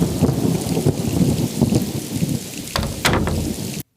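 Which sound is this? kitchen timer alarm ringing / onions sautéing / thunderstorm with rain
thunderstorm with rain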